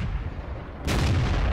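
A tank cannon shot in World of Tanks from a Jagdpanzer IV tank destroyer, a sudden loud broadband blast about two-thirds through, its rumble sustained to the end over low game ambience.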